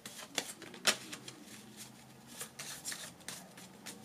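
A 32-card deck being shuffled, with soft papery riffling and a few sharper card snaps spread across the stretch. The sound is quiet and close, with no talk over it.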